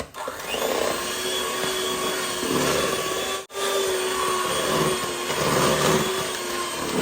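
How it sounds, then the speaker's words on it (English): Electric hand whisk creaming margarine and sugar for a birthday cake, a steady close whirring motor drone running continuously with one brief dip midway. "Whisk again."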